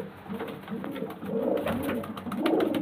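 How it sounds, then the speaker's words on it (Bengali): Pigeons, including young birds for sale, coo repeatedly nearby in low rolling calls that overlap and grow a bit louder toward the end, with no talking heard. "দেখুন পায়রাগুলো দেখুন।"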